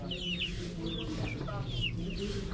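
Two backyard chickens cluck softly and repeatedly in a makeshift pen built from a barrier, with steady low farmyard background noise throughout.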